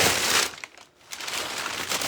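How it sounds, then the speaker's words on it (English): Packing paper crumpled by hand while unboxing a large box, a dense, crackly rustle that runs nearly continuously, briefly drops off, then resumes at close range. "Let me get all the paper out."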